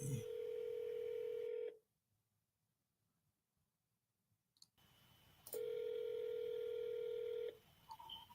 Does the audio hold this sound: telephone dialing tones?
yes